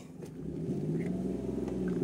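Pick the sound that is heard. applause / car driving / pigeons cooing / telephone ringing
car driving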